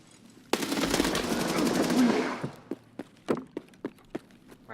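Shooter video game gunfire: a loud, sustained automatic burst of about two seconds, followed by a run of separate single shots and thuds spaced through the rest of the moment.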